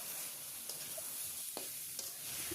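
Radish greens fry in an oiled pan with a steady, soft sizzle, broken by a few light scrapes and clicks from stirring; no one speaks.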